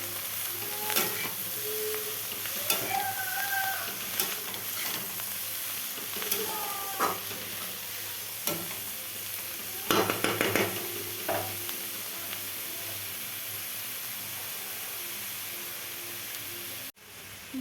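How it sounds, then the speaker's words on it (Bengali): Greens cut with potato and eggplant being stirred in a pan of hot fish oil, a steady close sizzle under repeated scraping and clinking of a spatula, with a few sharper knocks along the way. "লোটের শাক আর আলু বেগুন একসঙ্গে দিয়ে দিব। দিয়ে আগে প্রথম নেড়ে দিব"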